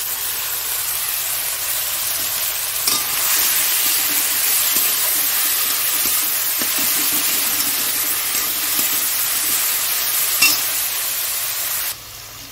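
Fish and small shrimp fry in a pan with a constant crackling sizzle and hiss, close and steady, with occasional faint scrapes of stirring.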